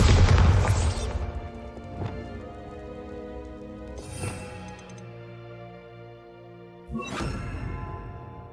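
Bombarda spell blasts in Hogwarts Legacy, a heavy booming explosion that opens loud and rumbling, followed by lighter magical whooshes and crackling bursts with a low tonal hum underneath.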